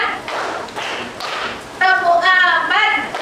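Counted hand claps in a classroom, a few distinct claps spaced between spoken counting, with a voice talking over and between them.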